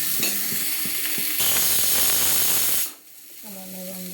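Soybean chunks frying in a pan sizzle and hiss loudly as they are stirred, with scraping and clinks, the sizzle dropping off abruptly before a steady hum and a brief voice at the end.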